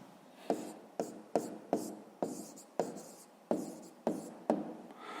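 Pen or pencil writing an answer to a sixth-grade maths exercise on paper: about ten sharp strokes or taps in an irregular rhythm, each followed by a scratchy trailing scrawl, close and fairly quiet, with no voices.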